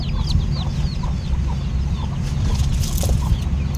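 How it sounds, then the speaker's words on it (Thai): A chicken clucks in quick bursts as it runs past close by in a rural yard where a pickup truck tire is being changed, over steady low background rumble. "โอ้น้องไก่วิ่งผ่านกล้องฉัน"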